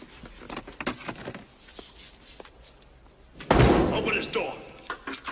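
In an action movie, a door gets slammed and banged: faint knocks and thumps under muffled voices give way to a loud, heavy impact and rattling bangs near the end.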